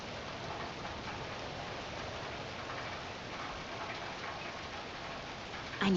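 Steady rain in the video game Alan Wake 2 patters continuously at an even level, with a brief louder knock right at the end.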